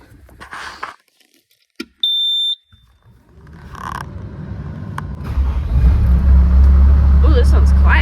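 A skid steer loader on a farm starts up, its engine rising from quiet clicks and a short beep to a steady, loud low rumble over the second half, with brief voices early on.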